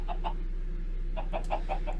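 Chickens in Minecraft (ComputerCraft modpack) cluck in short repeated bursts, a couple early and a rapid run later, over a low steady hum.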